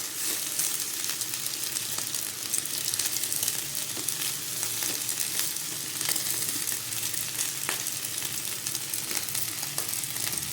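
Rice frying in a pan for basanti pulao, a steady, dense sizzle with faint stirring scrapes running continuously at an even level, no voices.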